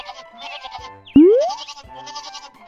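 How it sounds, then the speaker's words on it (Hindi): Goats in an animated story bleat on a road, with one loud, sudden bleat or boing-like cry standing out between softer repeated sounds. "बकरियों की आवाज तो मुझको भी सुनाई दे रही है"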